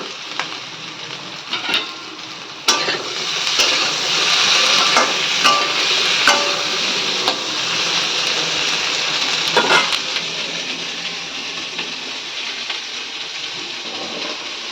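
Teasel gourd fries in a pan with chopped tomato and green chilli, giving a loud, continuous sizzle broken by sharp clanks and scrapes of stirring; no one speaks.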